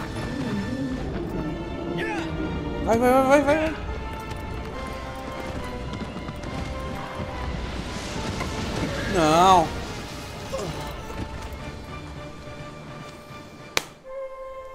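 A horse in Shadow of the Colossus gallops with a steady, rapid clip-clop under dense game sound, while a man urges it on loudly and a whinnying cry rises twice.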